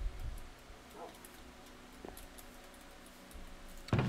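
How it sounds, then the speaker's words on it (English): Dogs in Minecraft make a few faint, brief yips and whimpers scattered over quiet game ambience, ending with one louder burst. "Couple dogs here."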